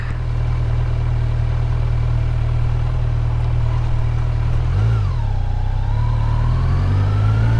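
A Kawasaki Z900 motorcycle is ridden, its engine humming steadily with wind rush before the revs dip and climb again, close and continuous with no talk.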